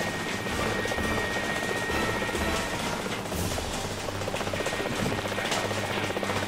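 A rescue helicopter in Helicopter Simulator Search & Rescue drones steadily throughout with constant rotor and engine noise, loud and unbroken.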